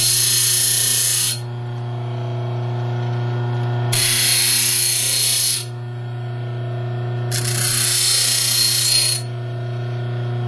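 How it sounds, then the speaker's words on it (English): A bench grinder shapes a hook lock pick. Three long, loud bursts of grinding hiss come against a steady motor hum, separated by short pauses, with no talk. "Most picks can be made on a simple grinder"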